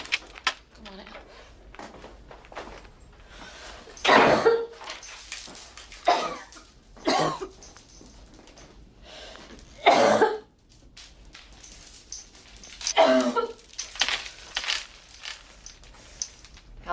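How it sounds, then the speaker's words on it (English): Several harsh coughs break out at intervals, separated by quiet stretches and a few soft rustles, fairly close. "How long have you had that cough?"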